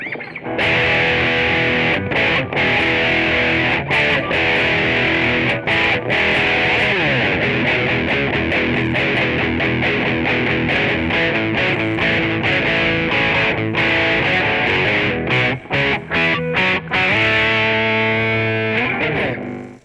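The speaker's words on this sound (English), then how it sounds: "Let's try that with a bit of spring reverb." An overdriven electric guitar plays chords and short riffs through a Roland Cube 10GX amp, each note ringing with a springy, splashy reverb tail, loud and up close.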